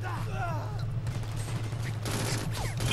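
Chain gun fire in the Brink video game, a steady rapid rattle of shots running continuously under dense game noise and effects, close and loud throughout.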